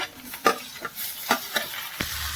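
Onions, green chillies and tomato fry in hot oil for a chutney, with a steady sizzle under a few scraping stirs of a spoon against the pan, close and moderately loud.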